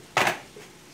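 A knife cuts through a peeled mango for an easy mango dessert, one short crunchy chop close up, followed by a fainter scrape, with no talk.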